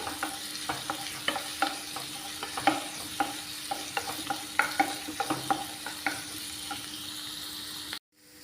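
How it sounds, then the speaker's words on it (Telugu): Cauliflower pieces frying in a pan until lightly browned, a continuous close sizzle broken by regular spatula scrapes and clicks as it is stirred, cutting off abruptly near the end. "లైట్గా బ్రౌన్గా అయిపోయిన వరకు వేయించుకోవాలండి"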